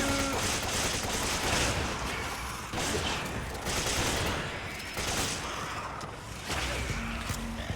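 Dense automatic gunfire rattles nearly nonstop in a shooter video game, loud bursts and volleys with brief lulls, a chaotic battle soundscape.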